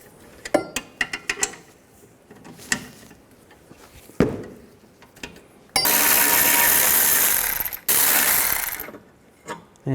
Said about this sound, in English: Take these two bolts out.